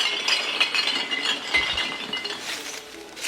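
Glass bottles clinking and rattling together at a Louisiana glass recycling operation, a dense run of bright, overlapping clinks and chinks with faint mechanical rattling beneath, steady and fairly close throughout.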